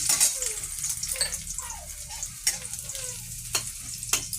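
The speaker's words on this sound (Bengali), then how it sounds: "তেলটা গরম হয়ে গেছে, এবার রসুন দিয়ে দেব।" Chopped garlic frying in hot oil for chilli paneer gravy: a gentle, close sizzle with intermittent stirring clicks and scrapes, with a few faint chirping tones in the background.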